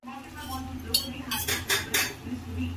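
A lid goes onto a cooking pot of okra gravy with a few metallic clinks and clatters, set against steady low kitchen background hum.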